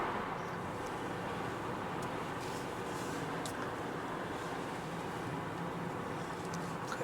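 An Alfa Romeo Stelvio Quadrifoglio cruises along a road in race mode, a steady low engine and tyre rumble with road noise, fairly faint and even throughout, no talking.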